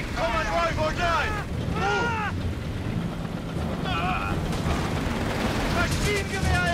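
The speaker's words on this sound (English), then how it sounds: "The boat guns are firing on us!" Boat-mounted guns firing in the World War II strategy game Company of Heroes 3 during a German desert mission in Africa, with bursts of gunfire and rumbling battle noise under frequent shouted voices and radio chatter.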